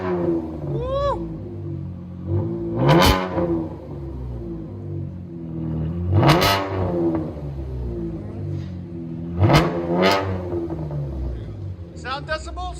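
A Chevy Camaro RS with a 3.6L V6 and a true-dual Dynomax Race Bullet exhaust, heard from inside the car, idles with a deep rumble and gives three sharp, loud revs spaced a few seconds apart while voices talk.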